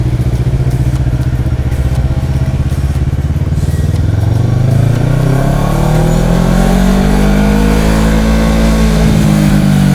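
A motorcycle accelerates along a quiet central London street, its engine note climbing steadily in pitch as it picks up speed, loud and close throughout with no talking.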